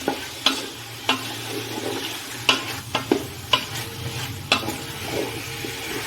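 Mutton seasoned with salt fries for Afghani pulao, a continuous sizzle broken by repeated sharp spatula scrapes and taps against the pot at irregular intervals, close up.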